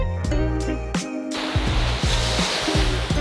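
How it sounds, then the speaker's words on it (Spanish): Sea waves rolling onto the shore at Las Terrenas, a small coastal town in the Dominican Republic, heard as a continuous loud wash of surf that follows a few soft tonal notes at the start, with no talk. "simplemente disfrutar del sonido del mar"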